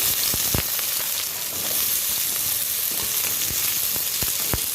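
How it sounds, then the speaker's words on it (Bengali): Green chili and potato fry in a pan with a loud, steady sizzling hiss, dotted with crisp popping crackles throughout. "এবার এগুলো খুব ভালো করে ভেজে নেব"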